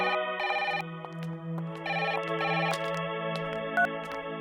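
Telephone ringing indoors, a loud, close electronic ring in repeated bursts with a steady tone between them, with no voices.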